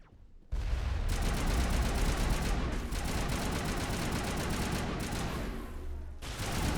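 An overcharged assault rifle in Mass Effect bursts in after a brief quiet moment, then fires a loud, sustained, rapid-fire stream of shots with a few short breaks.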